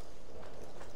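Hooves of mounted guards on horseback approach at a clip-clop in Assassin's Creed Odyssey, a steady rush of galloping beats blended into dense game ambience with no speech.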